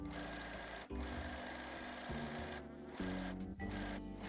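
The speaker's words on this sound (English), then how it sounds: "Then neaten the side seam edges with a serger or with a zigzag stitch." A serger or sewing machine stitching a denim jeans seam, running in a fast steady mechanical whir with brief stops and restarts, close and alone.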